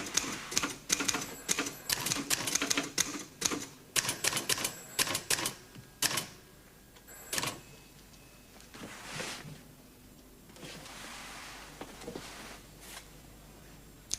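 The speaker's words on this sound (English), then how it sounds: "both typing out our reports" A typewriter clatters through reports with rapid bursts of sharp keystrokes and carriage clunks for several seconds, then trails off into fainter scattered taps and room noise.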